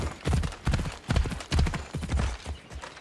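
Horse hoofbeats clop in a steady galloping rhythm as a rider travels on horseback in Assassin's Creed Odyssey, loud and close, with no talking.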